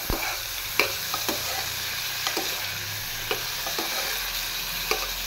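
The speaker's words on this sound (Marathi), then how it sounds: "हाजे नंतर व्हेजिटेबल्स घालून एक फावटी मिक्स करून घेवचे." Vegetables fry with ginger and cumin in a hot pan, giving a steady close sizzle broken by repeated spoon clicks and scrapes as they are stirred and mixed.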